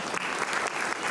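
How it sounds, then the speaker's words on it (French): Loud, dense applause from a crowd at a cosplay round-table panel during a Japan Party convention, a steady wash of many hands clapping that fills the whole moment without pause. "On peut applaudir très fort s'il vous plaît."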